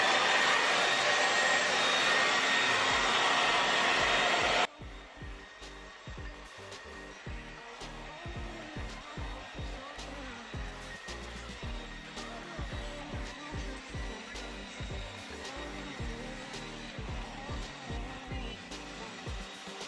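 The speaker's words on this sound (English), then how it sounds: "I am going to go in with a diffuser attachment and diffuse dry the curls so they could be dry" A hair dryer with a diffuser attachment drying curly hair, a loud continuous blowing roar for the first few seconds, then cut off and followed by quieter rustling and handling sounds.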